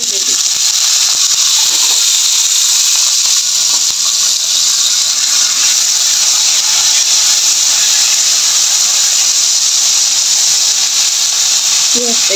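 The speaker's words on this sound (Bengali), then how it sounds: "পেঁয়াজটা একটু ভেজে নিব হালকা করে।" Onions frying lightly in oil in a pan for a fish curry, a loud, constant broadband sizzle that runs close and unbroken throughout.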